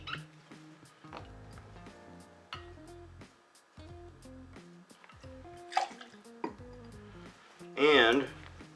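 Grand Marnier poured into a cocktail shaker, with soft glassy clinks, small liquid trickles and bottle knocks in a quiet room, ending in a brief louder splash or rattle.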